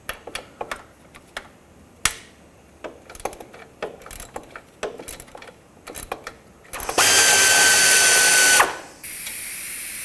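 A ratchet works a 13mm nut off the alternator of a 2007–2010 Chrysler Sebring, quick clicking pawl strokes close by, followed by a sustained loud whirring burst and a steady noise at the end.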